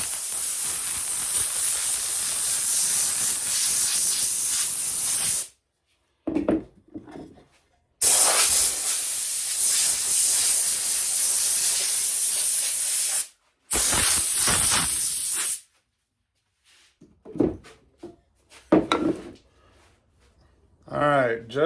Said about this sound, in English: Get this loud ass air compressor.